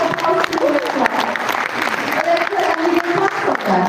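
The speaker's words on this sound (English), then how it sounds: "Can we have a applause to this one?" Applause from a conference audience at an insolvency and arbitration event, loud, dense and continuous clapping from a large crowd, close and steady, with voices mixed into the noise.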